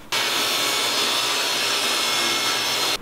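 A power saw rips a wooden board lengthwise, giving a loud, steady, unbroken roar that starts abruptly and stops just before the end.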